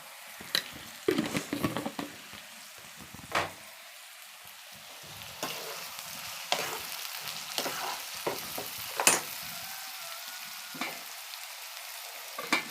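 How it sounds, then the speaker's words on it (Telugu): Curry base with onions for a bean and tomato curry fries in a pan, giving soft sizzling with irregular clattering stirs and scrapes, close and without talk. "అది కొంచెం అలా ఫ్రై అయిపోవాలండి"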